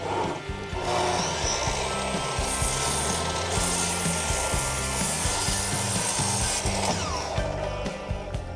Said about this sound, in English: score the surface just lightly with the blade prior to making your cut